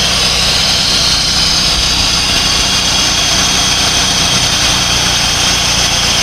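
An installed Jeep engine idles steadily and loudly close by, a continuous broadband mechanical roar with a constant low rumble and no pauses over the whole stretch.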